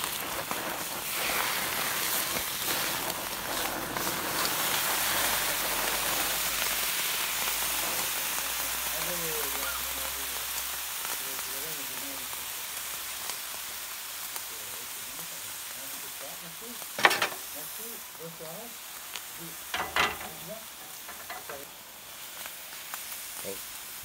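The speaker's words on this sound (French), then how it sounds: "Donc là maintenant on va les flamber." Grilled lobsters being flambéed with whisky, a broad rushing hiss and crackle that swells early then gradually fades, with a few sharp pops later and someone speaking intermittently.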